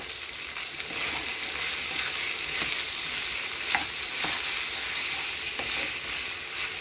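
Keema, minced meat fried with fresh vegetables including cabbage, hisses in a pan as a steady close sizzle, broken by a few soft stirring scrapes and no speech.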